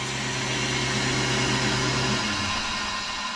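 A home freeze dryer winds down after its defrost cycle, a steady mechanical hum with low tonal drones that cut off about two-thirds through, leaving a quieter fading hiss.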